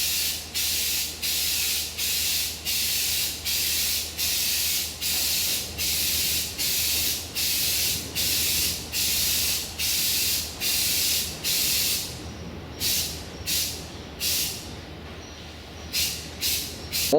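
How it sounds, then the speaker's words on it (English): A rattle-can primer sealer sprays onto a Crown Victoria Police Interceptor P71 bumper cover in a steady series of short, close hissing bursts, then in briefer, more irregular bursts toward the end. "our first step is going to be the primer sealer"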